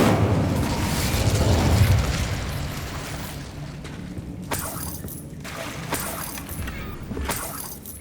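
An Incendio fire spell in Hogwarts Legacy bursts in a loud whooshing blast, then fades into crackling, popping debris and several sharp snaps.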